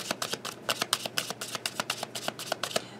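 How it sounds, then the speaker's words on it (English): Tarot cards shuffled and drawn by hand, a quick run of crisp riffling snaps and flicks in an uneven rhythm, close and fairly soft, with no talking. "Let's pull some more cards."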